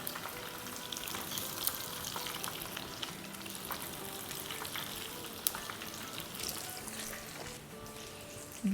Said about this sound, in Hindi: और इन्हें भी हम फ्राई करेंगे अराउंड 8-10 मिनट